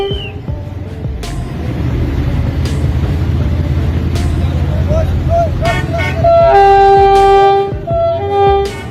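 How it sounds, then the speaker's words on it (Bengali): At a rail crossing in Pakistan, a heavy rumbling drone fills the scene, then a series of loud tonal horn blasts sounds close by toward the end. "পাকিস্তানের একটি রেল ক্রসিং এর দৃশ্য এটি"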